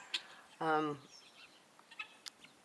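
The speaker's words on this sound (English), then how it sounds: "I've got 19 guineas out here with old Morris and Brutus, the rooster" A backyard flock of nineteen guinea fowl with a rooster named Brutus: one loud harmonic bird call rings out for about a third of a second, with faint scattered chirps and rustles before and after.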